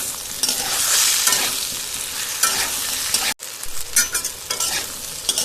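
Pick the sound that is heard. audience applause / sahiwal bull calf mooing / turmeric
turmeric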